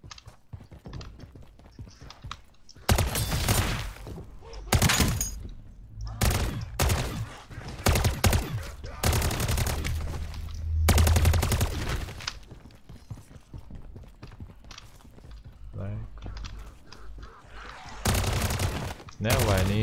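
Rapid bursts of gunfire and explosive blasts from the video game MW3 Zombies come in loud clusters separated by quieter gaps, with some speech in between.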